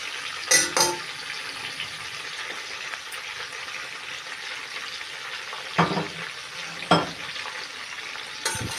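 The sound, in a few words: julienned onions frying with oxtail in a pan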